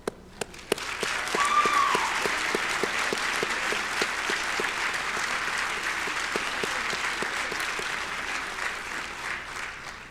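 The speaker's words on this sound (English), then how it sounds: "Graduates, let us applaud the faculty and staff who have worked tirelessly to prepare the next generation of leaders." An audience at a winter commencement ceremony applauds, a steady wash of many hands clapping heard from a distance in a large hall, with some sharp individual claps at the start and a slow fade.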